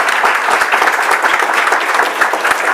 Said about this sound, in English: Can we give the students one more round of applause?